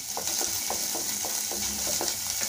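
Onions and curry leaves sautéing in coconut oil for a cabbage poriyal: a constant close sizzle with regular scraping stirs of a spoon against the pan, no voices.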